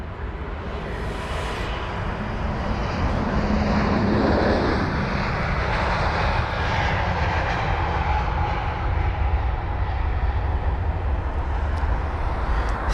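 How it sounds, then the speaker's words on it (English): Etihad and Emirates Airbus A380 jets depart Heathrow, a sustained loud roar of jet engines rising then rolling on steadily at a distance, with no voices. "nice shot of both A380s depart. That would be the Etihad and the Emirates jet"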